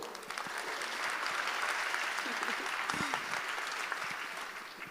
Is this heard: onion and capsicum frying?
no